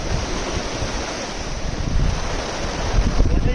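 Fast-flowing river water rushing loudly and steadily up close, a dense roar with gusting wind buffeting the microphone.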